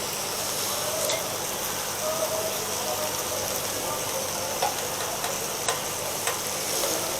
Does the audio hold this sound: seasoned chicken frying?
yes